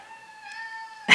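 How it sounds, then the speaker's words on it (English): A domestic cat gives a single drawn-out meow, fairly close and clear, ending in a brief louder rustle or thump. "my cat was just coming and meowed there"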